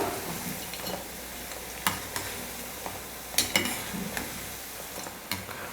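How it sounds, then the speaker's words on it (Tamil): Vadas fry in hot oil with a constant crackling sizzle, while a ladle stirs them and now and then taps and clinks against the pan. "அப்பப்போ கரண்டியை வச்சு கலந்து கொடுத்துக்கோங்க"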